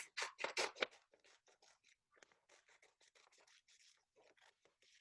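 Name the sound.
scissors cutting paper columns into ballots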